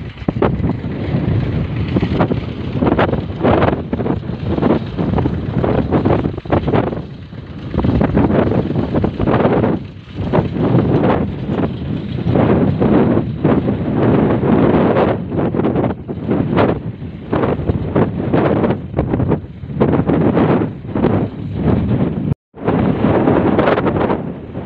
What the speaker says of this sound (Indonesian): Anginnya yang sangat kencang.